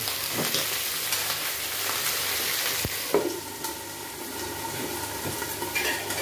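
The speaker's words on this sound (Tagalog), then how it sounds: "ilagay na natin ang okra, pero ito matilamsik to ah" Okra frying in hot oil, a loud continuous sizzle close by with scattered sharp pops and spatters and a brief clatter near the middle, without talk.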